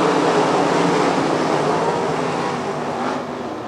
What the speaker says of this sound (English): Mark Smith leads down the back straightaway ahead of Bova, Weaver, and Soderman.